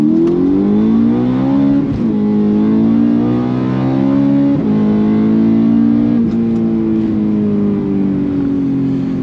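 The naturally aspirated V8 of a BMW M3 E92 accelerates hard from low revs with a loud, close engine note. Its pitch climbs steadily, then drops and climbs again several times.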